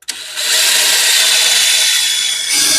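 A power drill bores steadily into a body panel on a Mustang with a turbocharged 460, a loud, continuous high whine held close for a few seconds after a brief start.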